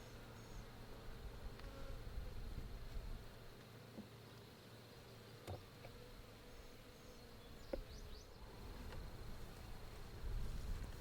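Steady low droning buzz of many honey bees at their hive, continuous and close, with faint scattered clicks and knocks throughout.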